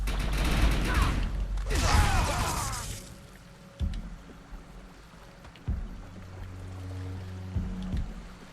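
Gunfire in the Defiance 2050 video game: a loud, dense rush of shots for the first few seconds, then a quieter stretch of mechanical clicks, thumps and sustained hums.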